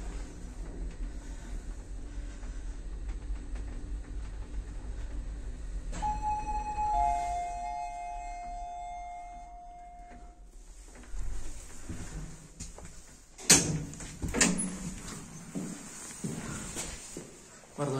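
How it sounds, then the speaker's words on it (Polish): A Zremb model 50 furniture-passenger lift in operation, with a steady low hum, a two-tone chime, then the thump and clatter of the light doors opening and closing nearby. "To jest winda meblowo-osobowa."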